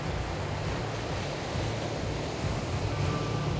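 Rough, heavy sea surf off the coast of Chennai, India, where fishermen work, roaring as a steady broadband wash with constant churning and wind, no pauses or voices.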